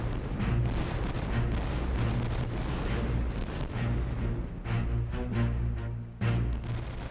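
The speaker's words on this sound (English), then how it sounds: "Gradually, gunfire from the combined fleet builds to a steady thunder." Naval cannon fire from warships of the combined fleet at the Battle of Trafalgar, building into a steady, continuous thunder of heavy booms with occasional sharper bursts over a low rumbling bed.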